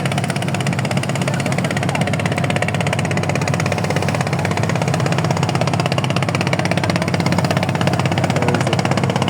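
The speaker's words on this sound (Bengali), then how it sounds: "এই দেখুন সব ছোট ট্রলার" Small trawler boats on the Padma river, their engines making a loud, continuous droning rumble that holds steady throughout, with no voices.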